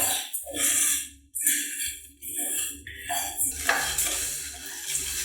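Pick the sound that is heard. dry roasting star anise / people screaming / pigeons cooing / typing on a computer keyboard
dry roasting star anise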